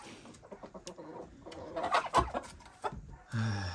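Turkeys and chickens clucking and chattering outdoors, a scattered run of calls that swells into a louder cluster, then a longer squawk near the end.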